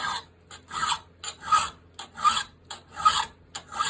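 A steel horseshoe nail clamped in a vise is worked with a hand file in steady back-and-forth rasping strokes, about five or six evenly spaced passes, close and clear with no talking.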